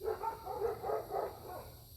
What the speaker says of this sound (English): there the dogs go